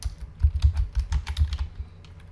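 Fingers type Python commands on a computer keyboard, a quick uneven run of soft clicky keystrokes up close for about two seconds, then slowing and stopping, no voices.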